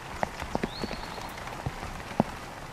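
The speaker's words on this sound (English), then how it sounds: "we've just been watching the lightning strikes and the downpours" Heavy rain pounding down in south Florida during a season of daily afternoon thunderstorms: a steady hiss of downpour with scattered sharp, close drip impacts, and no voices.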